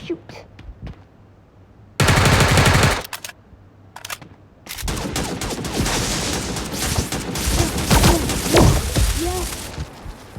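A minigun fires in the video game Sausage Man: a loud, dense burst of rapid gunfire cuts in, stops, and then gives way to longer sustained bursts mixed with game effects.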